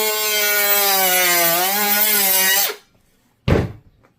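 High-speed rotary tool spinning at about 20,000 RPM cuts through plastic packaging on a Micro Bigfoot RC toy truck, a loud steady whine with falling harmonics for under three seconds, then a short scraping thud.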